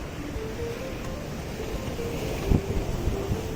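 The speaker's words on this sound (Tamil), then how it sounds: "அலை வந்து இந்த கல்லெல்லாம் அப்படியே அடிக்கும்போது சவுண்டே வித்தியாசமாக இருக்குது" Sea waves wash steadily against the rocks of a breakwater with a constant roar of surf and wind, and a few heavier splashes break through.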